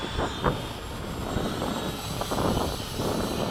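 An RC ducted fan jet plane, a 70mm Hobby King Skysword on 6s chasing an 80mm Freewing Mirage, flies at full throttle at the field. Its steady high whine carries through with a broad rushing roar, and faint wind noise sits underneath.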